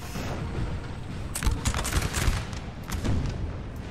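Crackling musket volleys and distant booming artillery from the video game Napoleon Total War, a dense rolling battle din with clustered shots in the middle and a continuous rumbling wash beneath.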